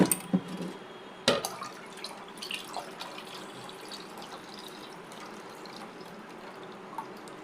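Rinse water from washed dal and rice is poured out in a kitchen, a faint trickle and splash with a few sharp clinks of the vessel near the start, then a soft steady flow.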